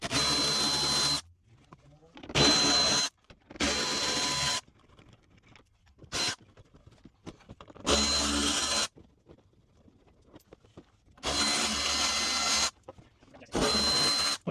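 A power tool spins out 10 mm bolts holding the front bumper on an Infiniti G35/G37 sedan. It gives about six short, loud whirring bursts, each separated by quiet pauses, at close range.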